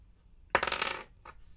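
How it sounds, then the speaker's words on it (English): Dice for the board game Deep Space D-6 tumble briefly on a table: one quick clattering roll with a short, softer rattle as they settle. "After the threat phase, roll the dice again."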